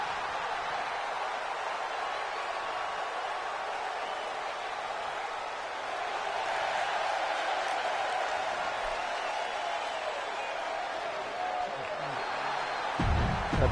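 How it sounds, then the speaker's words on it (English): Crowd ovation in WWE 2K25 for the Bella Twins at an Elimination Chamber event: a steady, dense wash of arena cheering and applause holds at even volume throughout, with a few louder bumps near the end. "The Bella Twins getting a great ovation."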